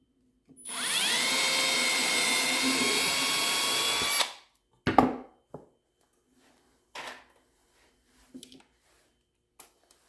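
A power drill bores a pilot hole in wood for a DIY cookbook stand, a steady whine of several seconds that stops abruptly, followed by a few short clunks and handling knocks.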